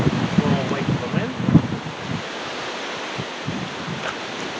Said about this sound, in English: We'll wait for the wind.